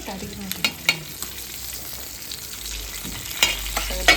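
Fish frying in oil gives a steady soft sizzle, broken by several sharp clinks and scrapes of stirring utensils against the pan.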